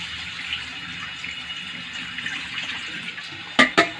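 Food is washed in a bowl of water, with continuous sloshing and splashing, then water is poured off in a couple of short, sharp gushes at the end.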